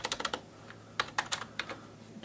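Keys clack on the keyboard of a 2005 custom-built PC as a computer name is entered, a quick run of close, light taps, a pause, then another short burst.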